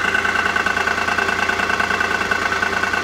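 A Smart car engine runs on a ramp in a garage, close and steady, with a fast, even throbbing pulse and a faint mechanical rattle, no talk heard.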